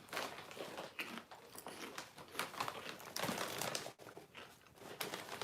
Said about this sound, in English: the two cats hear a plastic bag